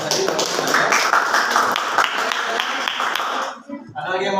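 Classroom audience clapping at the close of a group discussion, a busy patter of hand claps mixed with voices, loud and near, fading into a brief lull before sound returns.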